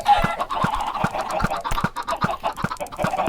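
A flock of Minecraft chickens clucks repeatedly in quick, uneven bursts at moderate volume, with short soft thumps ticking in a steady rhythm underneath.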